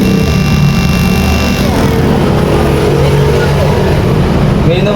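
An ebike hub motor spins under throttle during a repair check, giving a steady, loud continuous whir with layered tonal hum across the whole span while someone talks over it.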